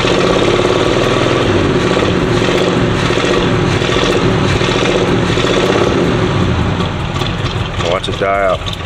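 A 1987 Oldsmobile Cutlass engine idles loudly and close with a rough, steady rumble after a carburetor cleaning, while a voice speaks over it near the end.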